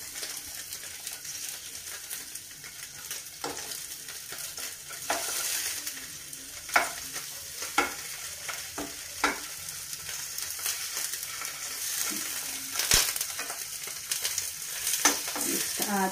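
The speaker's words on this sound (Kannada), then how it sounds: "ಇದಿಷ್ಟು ಗೋಲ್ಡನ್ ಬ್ರೌನ್ ಹಾಕ್ಬೇಕು ಪನ್ನೀರ್ ಕಾಣ್ತಿದಲ್ಲ" Paneer frying to golden brown in a pan hisses with a steady, soft sizzle, broken by occasional scraping and clinking as the pieces are stirred and turned close by.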